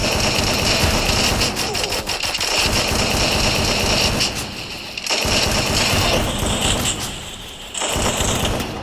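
Rapid automatic gunfire in a battle royale game rattles in long continuous bursts, loud and near, broken by two short pauses before resuming.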